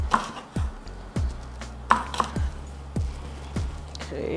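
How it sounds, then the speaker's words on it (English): A knife slices through a red onion on a cutting board, giving about seven evenly spaced, crisp chops, each a sharp knock against the board, close and clear with no talking. "just slice this up as well."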